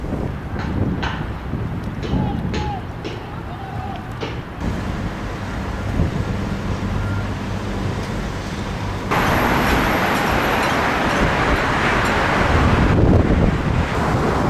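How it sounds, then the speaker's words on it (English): Strong wind buffets the microphone outdoors in Manama, Bahrain, in a constant roar, with a distant hum of traffic underneath and a gust that grows louder partway through. "The weather's been good, just a little windy"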